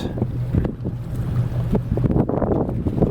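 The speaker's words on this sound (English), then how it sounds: "So we're under diesel power." A boat's diesel engine runs steadily with a low, droning hum, mixed with wind rushing across the microphone.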